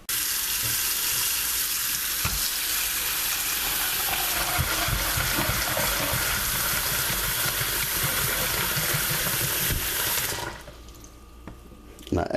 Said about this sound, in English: We're going to rinse these off.